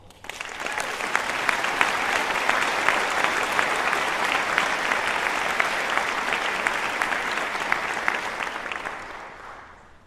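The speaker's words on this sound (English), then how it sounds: "I'd like to take a second and offer some applause for those people." A large graduation ceremony audience claps steadily for about ten seconds, a dense, even wash of applause that swells quickly and then fades out at the end.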